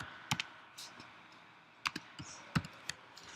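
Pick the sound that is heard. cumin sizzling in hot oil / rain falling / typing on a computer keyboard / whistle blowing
typing on a computer keyboard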